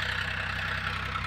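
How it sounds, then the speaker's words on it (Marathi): A tractor engine runs steadily in a field where fenugreek has been sown, a loud, constant low chugging with a rapid even pulse and broad mechanical noise, no voices over it. "तर आता इकडे चाललं आहे ट्रॅक्टर"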